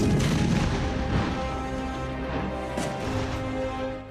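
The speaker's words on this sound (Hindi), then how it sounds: "हिमालय की ऊंची नीची पहाड़ियों पर भी तोप गरजते दिखते हैं" Indian Army artillery cannons firing across high Himalayan mountain ridges, heavy booming blasts that roll into a sustained, dense rumble throughout, loud and continuous with no voices.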